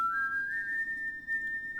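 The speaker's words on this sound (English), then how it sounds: "Gee, I wonder what the whistling sound could mean." A single sustained high whistle in the video game Mega Man 8, holding one pitch, rising slightly early on and gliding steadily, clear and alone with no other sounds.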